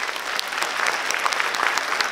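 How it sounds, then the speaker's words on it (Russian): Audience applause at a dance event, a steady dense patter of many hands clapping close by, even in loudness throughout with no voices over it. "Аплодисменты."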